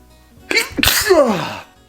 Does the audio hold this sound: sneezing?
yes